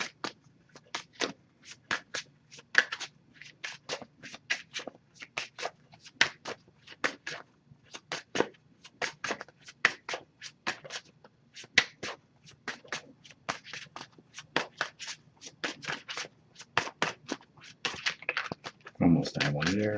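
An oracle card deck being shuffled by hand: a long run of quick, crisp riffling clicks in uneven bursts, close and fairly loud, with a brief voice near the end.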